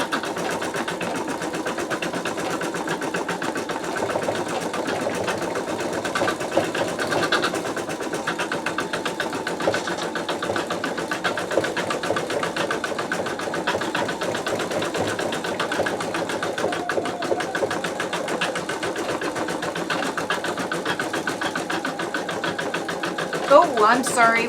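A Sew Tech VK362MK embroidery machine stitches a design in a 7x5 magnetic hoop, giving a steady, fast mechanical whir and needle rattle that runs continuously at moderate loudness under a voice talking.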